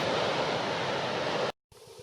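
Waves on Lake Huron rush and wash in a steady broadband roar, close and continuous, then cut off abruptly before a quieter stretch of surf.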